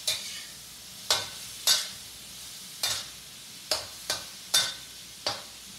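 A quick sauté over medium-high heat for shrimp and egg drop gravy over rice, a faint background sizzle with eight or so sharp spatula scrapes and taps against the pan at uneven intervals.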